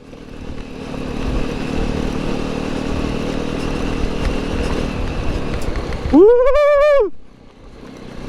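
A Jawa 42 motorcycle rides off-road in Ladakh, its engine a steady rumbling drone for several seconds before a rider lets out a loud, whooping cheer near the end.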